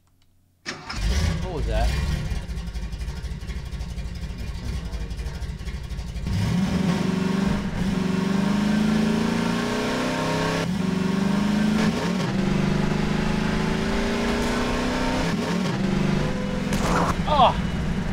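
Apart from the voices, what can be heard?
car engine starting and driving in video game Garry's Mod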